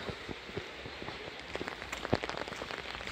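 Rain falling all around on a walk to work, a dense patter of scattered drops striking surfaces nearby, irregular taps over a soft continuous hiss.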